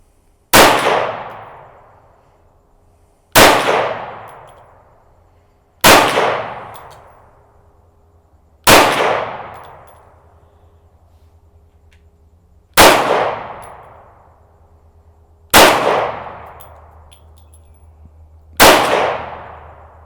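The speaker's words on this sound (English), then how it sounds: "I'm going to go for one of those gongs over there, see if I can get it." Seven pistol shots, probably from a .380 caliber handgun, ring a steel gong target at an outdoor range. Each shot gives a loud crack followed by a long metallic ring that decays, spaced a few seconds apart.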